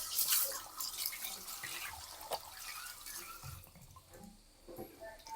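Lentils and rice are rinsed in water for khichdi, giving faint close-up sloshing, trickling and dripping from a tap into a vessel, with soft splashes throughout.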